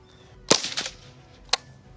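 Gunshots from a firearm fitted with an improvised muffler, two sharp cracks about a second apart, the first followed by a short rattling echo, both fairly loud against a quiet background.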